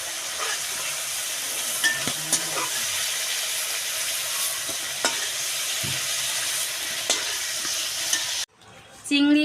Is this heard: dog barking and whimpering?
no